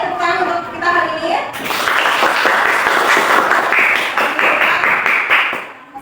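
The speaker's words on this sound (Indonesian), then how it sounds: "tepuk tangan untuk kita hari ini" A classroom of students applauds together, a dense, loud burst of clapping that starts after a short stretch of speech and carries steadily before tapering off at the end.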